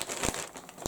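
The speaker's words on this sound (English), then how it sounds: "sorry about the crinkle." Plastic packaging bag from a yarn order crinkling close by in short, bright rustling bursts, with a couple of sharper crackles and no talk.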